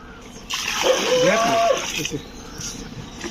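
A splashing gush of water is poured from a mug into a cooking pot for about a second, followed by fainter trickling and quiet background noise.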